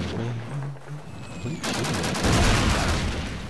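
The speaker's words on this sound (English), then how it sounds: "There's the shot that's gonna put me down." Gunfire in Call of Duty Classic, a brief exchange of shots that swells into a loud rattling burst of rapid fire and booming impacts in the last couple of seconds.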